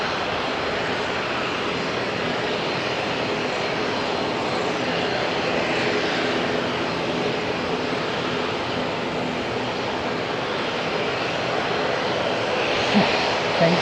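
A jet airliner taxis toward a gate at Auckland International Airport, its engines a steady, broad roar that holds evenly throughout without talk.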